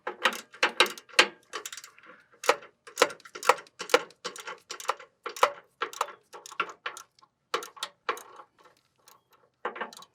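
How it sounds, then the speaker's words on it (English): A ratchet on a 3-inch extension turning a tight 13 mm nylock nut on an F150 engine mount, giving quick bursts of crisp clicking with short pauses between strokes, close and clear. "So you can just get in there with a 3-inch extension and your ratchet."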